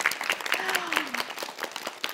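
Classroom audience at a geography lecture bursts into lively applause, dense clapping throughout with a voice speaking briefly over it.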